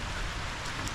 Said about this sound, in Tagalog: lumakas na yung ulan